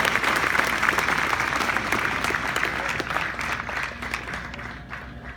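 A graduation audience applauds steadily to welcome the class of 2018 salutatorian to the podium, a broad wash of many hands clapping that holds strong, then gradually thins out toward the end.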